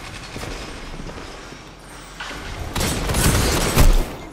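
The Ace of Spades gun fires in a Destiny Crucible match, a short burst of loud booming shots that swells toward the end over background game noise.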